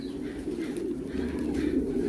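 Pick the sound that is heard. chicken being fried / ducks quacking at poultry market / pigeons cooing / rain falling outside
pigeons cooing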